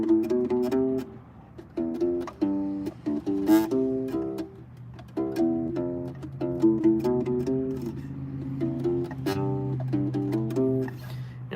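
A ukulele bass (U-Bass) plays a bass line in C, a quiet, steady stream of plucked rubbery notes in a repeating rhythmic pattern, played alone and close.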